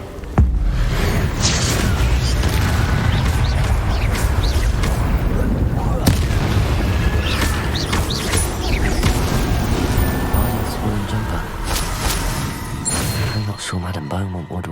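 Fire spells cast in Hogwarts Legacy burst as loud, booming blasts with crackling flames, firing in quick succession over a constant roar of game effects while a voice shouts spell names.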